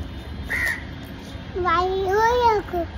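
A bird gives a few harsh, crow-like caws, one short call followed by a longer drawn-out pair, fairly close against faint background noise.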